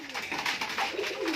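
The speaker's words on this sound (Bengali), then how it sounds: "এখানে দেখো সব গিরিবাজ পায়রা রয়েছে" Giribaz high-flying pigeons coo close up in soft, throaty rolling calls that overlap in a brief continuous burst, with no talking.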